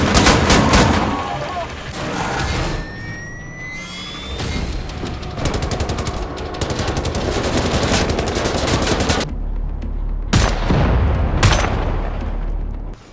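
Dense gunfire from the arsenal of the shooter Wolfenstein: The New Order, loud sustained bursts of rapid shots with booming impacts, a short lull near the end before more firing, with a voice faintly underneath.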